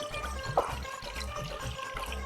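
Soaked lentils and pulses go into a pot with water, giving a soft, sloshing pour with a brief splash near the start. Kitchen background noise runs underneath.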